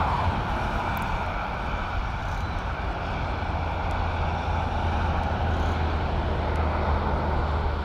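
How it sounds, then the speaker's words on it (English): Continuous roadside roar of cars passing on a freeway between Melbourne and Sydney, a steady broadband wash with low rumble, heard from beside the road at moderate distance. "so you can hear the cars going by"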